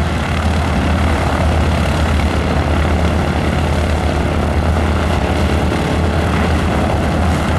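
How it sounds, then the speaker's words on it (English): Propeller airplane performing a barrel roll at an airshow, a steady loud engine drone that fills the air without letup. "Rolls that airplane over, upside down, and goes right on through out there in another classic barrel roll."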